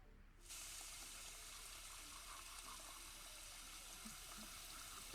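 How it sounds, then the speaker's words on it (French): Water running from a bathroom tap while a character brushes teeth in The Sims 4, starting abruptly after a brief quiet moment as a faint steady splashing hiss that continues throughout. "Pourquoi tu laisses l'eau couler quand tu te laves les dents?"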